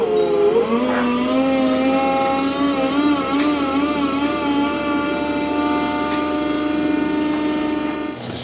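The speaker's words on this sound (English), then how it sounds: "Just driving in some half-inch lags" A power driver sinks half-inch lag screws during a pressure washer installation, giving a loud, steady motor whine that climbs in pitch at the start and then holds level for several seconds.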